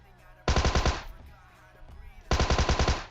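Two bursts of rapid automatic gunfire in a mobile shooter game, finishing off knocked-down enemies, each burst a quick string of sharp, loud shots separated by a short quiet gap.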